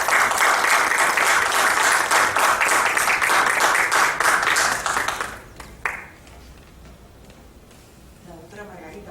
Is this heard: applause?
yes